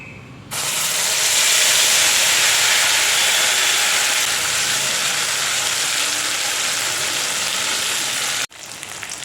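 Spice paste tipped into hot oil with nigella seeds erupts into a loud, close, steady hiss of sizzling that holds for several seconds before cutting off abruptly.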